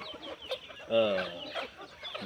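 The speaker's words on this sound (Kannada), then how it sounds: "ಒಂದು ಓಪನ್ ಏರಿಯಾದಲ್ಲಿ ಈ ಕೋಳಿಗಳನ್ನ ಬೆಳೀತಾ ಇದ್ದೀನಿ" Native country chickens on an open farm cluck, with one clear drawn-out cluck rising above a soft backdrop of other birds' murmuring calls at moderate distance.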